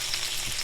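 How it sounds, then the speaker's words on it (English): Meatloaf fries in a grease-filled pan, giving a steady close crackling sizzle with no talking. "I hear that meatloaf frying."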